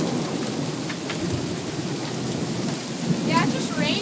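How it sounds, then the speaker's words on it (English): Heavy rain pours steadily during a hail storm in Cardston, a dense, continuous roar of water hitting surfaces close by with low thunder-like rumbling, and a faint voice briefly rises near the end. "Oh, it's just pouring."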